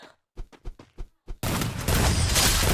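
Gunfire in a mobile shooter game: five or six sharp separate shots in quick succession, then a dense, loud burst of continuous firing and noise that fills the rest.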